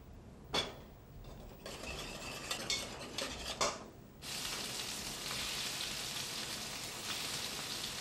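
Langoustine tails fry in a pan, first with scattered clinks and scrapes of a utensil against the pan, then a steady crackling sizzle that fills the rest of the stretch, moderately quiet and without voices.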